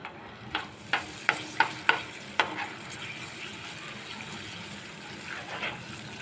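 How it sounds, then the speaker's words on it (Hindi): Butter added to hot caramelized sugar in a pan: a series of sharp scraping taps from stirring early on, then a soft, steady bubbling sizzle that fades to a low hiss, close and without speech. "तो चीनी जो है हमारी वो कैरेमल हो गया है इसका। बस इस मौके पर मैं थोड़ा इसमें मक्खन ऐड कर दूँगी"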